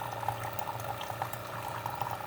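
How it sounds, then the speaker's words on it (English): Keurig coffee maker with its air pump pushing water through the heater, a continuous bubbling, gurgling churn with a low motor hum underneath, close and moderately quiet. "So the air pump is running"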